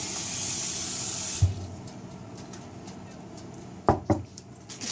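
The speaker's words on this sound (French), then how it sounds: "après, je vais les rincer dans l'eau." Tap water runs into a kitchen sink to rinse chopped cabbage, a steady rush for about a second and a half before cutting off, followed by a few light knocks and clatters of handling.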